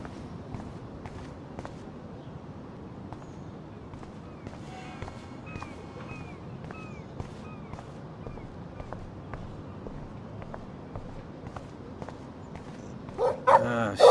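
Dog barking in the video game Life Is Strange, scattered short barks and yips amid footsteps and ambient game sound, moderately close, with bird chirps in the middle and a louder burst at the end.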